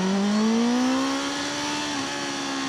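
BMW M1000R motorcycle engine under way on a ride toward Bolzano Airport, a loud, steady drone whose pitch climbs slightly then holds, close to the rider with no talk.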